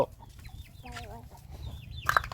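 Chickens cluck at a rural Thai home, several short clucks and chirpy calls close by, fairly quiet and scattered, with a faint voice in the background.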